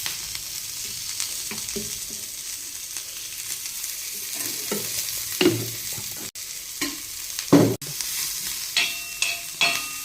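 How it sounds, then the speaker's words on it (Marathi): Mutton pieces sautéing in a little oil for a mutton rasa, a steady frying hiss with intermittent louder scrapes and knocks as the meat is stirred and turned, close up with no speech. "थोडंसं तेल टाकून चांगलं भाजून आणि परतून घेत आहोत।"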